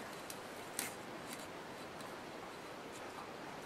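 Scissors snip paper during an altered-bottle Valentine's craft, a single crisp cut standing out near the start against a soft, steady hiss of room noise.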